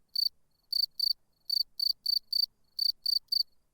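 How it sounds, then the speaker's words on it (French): A field cricket chirps in a vineyard, clear high-pitched trills in short pulsed bursts repeating at a fairly regular pace, some bursts paired closely, with near silence between them. "Le grillon champêtre,"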